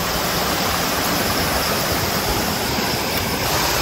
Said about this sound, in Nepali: मुहानको पानी तपाईँहरूलाई देखाउँदैछु